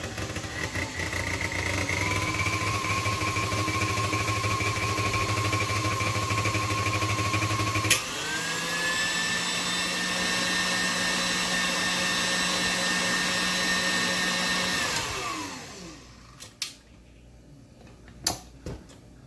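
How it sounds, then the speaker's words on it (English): An electric mixer whisks peanut butter cream cheese frosting with a steady whirring drone that shifts speed partway through, then winds down and stops, leaving a few light clicks. "Whisk that for about a minute and your cream cheese will be complete."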